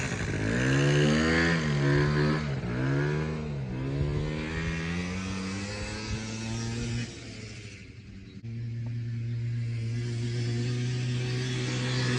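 Small moped engine running after sitting overnight, a steady buzzing drone with slight pitch wavers early on and a brief dip before settling back, close and moderately loud.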